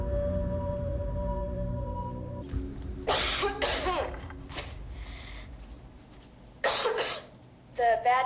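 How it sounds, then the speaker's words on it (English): Several harsh, wet coughs come in two close bursts after a low mechanical hum, followed by another rough cough at the end. "the cough is getting worse"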